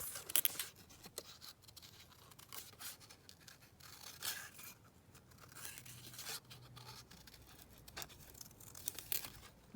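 Scissors cut around a paper sewing pattern piece for a double pocket, giving faint, irregular snips and crinkling paper rustles scattered through the stretch, with no talking.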